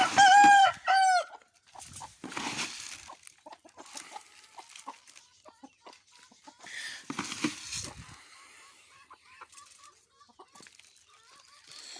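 A rooster crows loudly and close at the start in a poultry yard, followed by scattered clucking and squawks from chickens and other fowl, trailing off into softer intermittent calls.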